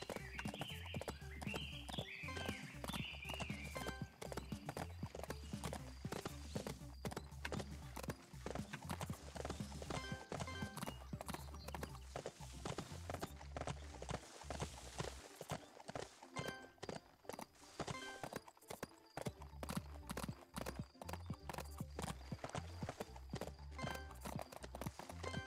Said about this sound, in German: Das sind sehr empfindliche Pferde.